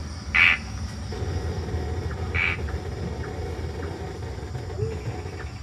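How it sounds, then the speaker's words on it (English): Two brief calls of a four-lined tree frog ring out a couple of seconds apart, standing out over a steady hum of night insects in a Singapore forest. "a four-line tree frog's trill,"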